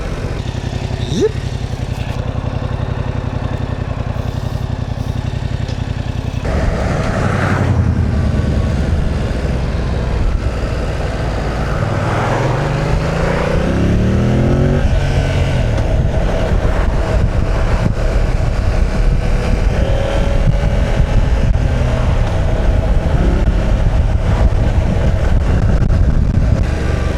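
A 2025 Yamaha MT07 with its stock exhaust rides along, the engine a steady close drone that rises and falls through gear changes over heavy wind buffeting, with a rider talking at times.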